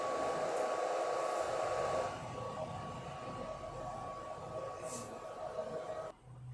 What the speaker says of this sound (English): So I'm just going to start the machine and get it to engrave.